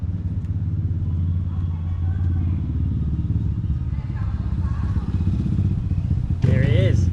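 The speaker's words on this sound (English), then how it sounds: "I hear a motorbike," A motorbike on a hot day near an abandoned mansion in rural Mexico holds a steady engine drone throughout, growing slightly louder toward the end, with a voice briefly audible over it.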